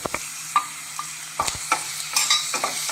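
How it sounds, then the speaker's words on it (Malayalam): Crushed garlic, green chili and ginger being sautéed in a pan for a Kerala-style prawn roast, with a low steady sizzle and several sharp spoon-on-pan stirring scrapes and clinks, close and alone. "അതും പച്ചച്ചവ പോകുന്ന വരെ ഒന്ന് വഴറ്റി കൊടുക്കണം"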